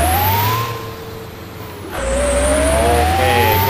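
A truck engine in Euro Truck Simulator 2 drones loudly, dipping briefly, then climbing in pitch as the truck accelerates. A steady high whine runs above the engine.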